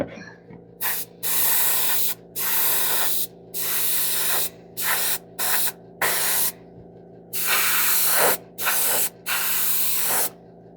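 An airbrush sprays thick paint in about nine close, loud hissing bursts of roughly a second each, separated by brief pauses, over a steady low mechanical hum, with no talking.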